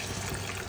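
Lukewarm water poured into a curry in a pot, a steady close trickling and gurgling flow heard on its own.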